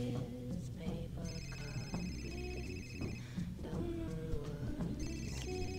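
In Fahrenheit: Indigo Prophecy, a telephone in Carla's place rings with repeated bright electronic trills in regular bursts over busy game background sounds.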